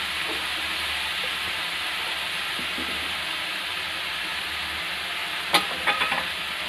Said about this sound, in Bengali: খালি হালকা করে একটু ভেজে নিচ্ছি